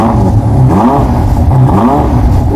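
A Ferrari SF90's twin-turbocharged V8 revs loudly up close in stock form, a deep throbbing engine note rising and falling in repeated pulls, heard alone.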